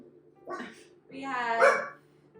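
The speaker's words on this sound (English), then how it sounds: "We have Jagger barking at nothing." A dog named Jagger barks and yelps indoors at home during the holidays, two short bursts with the second longer and louder, close by and alone.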